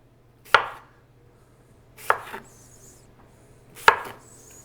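Three separate knife chops, each a sharp thud with a short rattle, come roughly every one and a half seconds against a quiet background as fruit such as oranges is sliced for a holiday drink.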